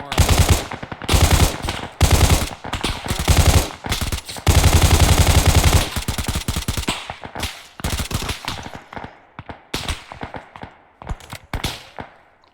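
Gunfire in the military video game ArmA 3: sustained automatic bursts and rapid repeated shots rattle almost continuously for several seconds, loud and close, thinning into scattered shots toward the end, with no talking over it.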